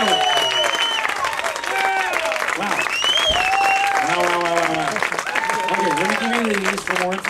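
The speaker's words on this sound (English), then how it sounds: "All this applause is for you." Party guests at a backyard birthday party clap steadily throughout while loud voices call out and cheer over the applause.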